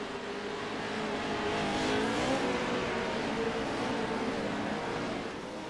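Pro 2 Lite race trucks on the final lap at Crandon International Raceway roar past at full throttle, a steady loud engine drone that swells and fades slightly.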